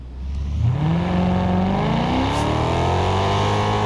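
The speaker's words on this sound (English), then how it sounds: "this car sounds beautiful, as I said." A sports car engine in the video game Test Drive Unlimited Solar Crown revs loudly and climbs in pitch as it accelerates, then holds a steady high drone, with no talking.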